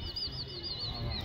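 Pigeons' wings flap in a quick, continuous flutter as the flock takes off or circles over rooftops in Amroha, steady and moderately close against a soft outdoor hum.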